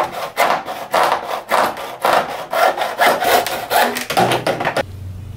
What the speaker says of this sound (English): then I'm going to use my hacksaw to cut it off